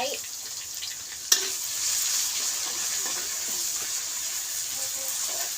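Homemade curry paste of pounded Karen chilies, shallots, garlic and lemongrass is stir-fried in a pan. It gives a steady, close hiss and sizzle after one sharp clack, with someone talking briefly underneath.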